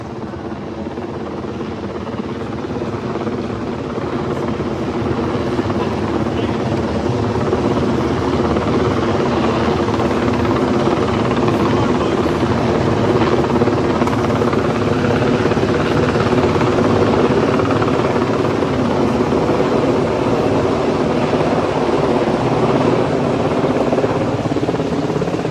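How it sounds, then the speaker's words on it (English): Military helicopter flying overhead in Washington DC, a loud steady rotor and engine roar that builds slightly and stays dominant throughout, with no clear talk. "Military chopper is coming back down."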